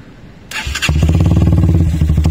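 A Benelli Motobi Evo 200 motorcycle with a custom Sportster look starts up close by: a brief starter whir, then the engine catches and settles into a loud, steady, throbbing exhaust idle.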